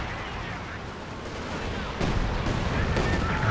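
Artillery barrage in the real-time strategy game Company of Heroes 2: muffled booms and crackling blasts, with a denser salvo of impacts starting midway, heard behind faint background talk.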